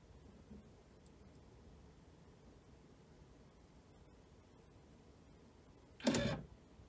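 A JVC Victor DD-99 cassette deck with worn felt slip clutches hums faintly and steadily while running, then gives one short, louder mechanical clunk as it shuts off near the end.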